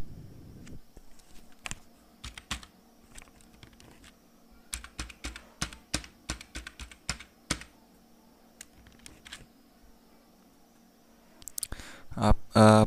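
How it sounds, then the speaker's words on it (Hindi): Fingers tap a computer keyboard while a passport detail is entered on an income tax registration form, in uneven bursts of close, crisp clicks with quiet pauses between them and a louder rustling clatter at the very end. "जो भी आप पासपोर्ट रखना चाहते हैं उसको टाइप करना है तो मैं टाइप कर लेता हूँ"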